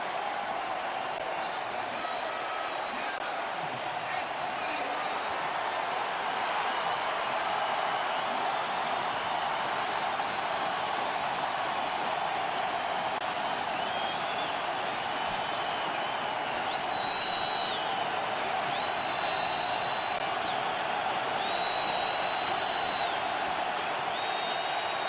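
A large Oakland crowd roars at an NFL football game between the Raiders and the Buccaneers, a steady, dense wall of cheering and noise that holds for the whole stretch, with faint whistles and calls rising above it.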